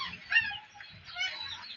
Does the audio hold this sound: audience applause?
no